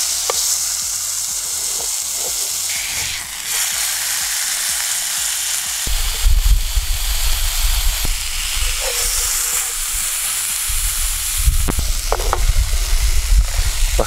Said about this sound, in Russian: жарим буквально вот по несколько минут на каждой стороне